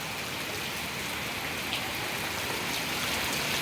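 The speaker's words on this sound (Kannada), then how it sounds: "ನಮ್ಮ ಕಡೆಗಂತೂ ಸಖತ್ ಮಳೆ ನೋಡ್ರಿ" Heavy rain pours down in a village, a dense, even hiss of drops hitting surfaces that stays constant and close throughout, with no voices.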